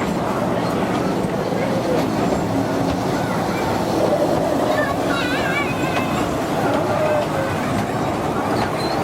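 A small tourist train carries riders around a zoo, its steady rumble and rolling clatter continuous throughout, with people talking and calling out over it.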